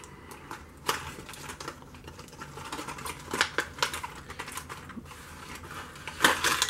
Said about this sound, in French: Franchement il pique plutôt bien, donc je vais le déballer.